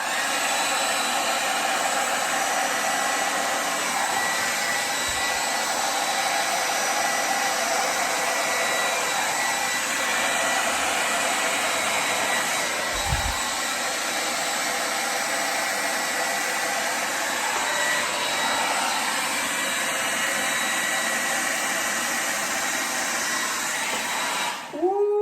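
A hair dryer blows steadily on wet acrylic pour paint with shimmer, a continuous close roar lasting throughout with only faint bumps and no break.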